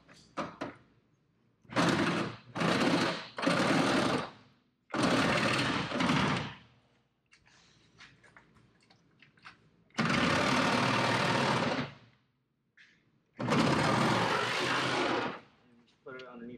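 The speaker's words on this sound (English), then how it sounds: "Diablo blade on a Milwaukee Sawzall." A Milwaukee Sawzall reciprocating saw fitted with a Diablo blade cuts into a 1969 Volkswagen Beetle chassis during disassembly, in several loud, buzzing bursts of a few seconds each, separated by short quiet pauses.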